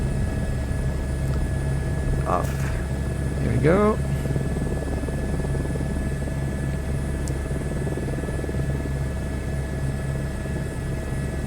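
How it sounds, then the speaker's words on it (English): A helicopter in Microsoft Flight Simulator 2024 drones steadily over Paris, a constant rotor and engine hum filling the whole clip, while a voice speaks briefly over it near the start. "Back in my helicopter. Take back up."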